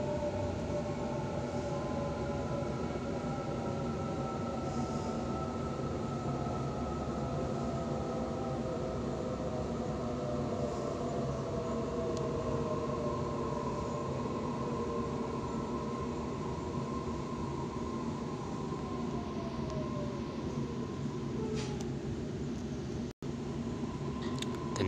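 A Sydney T1 Western Line train runs between Parramatta and Richmond, heard from inside as a steady loud rumble and hiss of wheels on rails, with a faint falling whine partway through and a brief dropout near the end.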